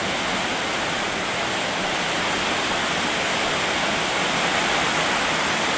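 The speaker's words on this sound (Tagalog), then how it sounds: "Napakalakas ang ulan. May bagyo na naman yata." Dense, steady roar of heavy rain pouring continuously, loud and close, with no breaks or voices.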